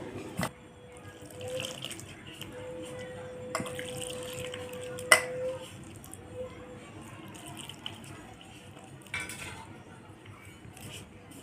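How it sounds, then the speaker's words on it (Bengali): Water is added little by little while flour dough is kneaded by hand in a bowl. Faint splashes and trickles come with occasional sharp clinks of a utensil against dishes, all quiet and close. "এর মধ্যে এবার আমি জল দিয়ে অল্প অল্প মাখাবো"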